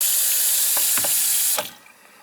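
Water runs steadily from a household faucet that leaks from under its handle, a loud broadband hiss that cuts off near the end, with a few faint clinks in between.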